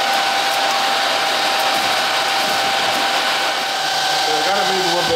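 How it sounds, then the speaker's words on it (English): The cooling-system fan of a Kaleido M6 Pro coffee roaster blows a steady, loud, even whoosh that runs unbroken for several seconds, with a faint hint of voice beneath it. "these beans, they do cool really quick in this cooling system"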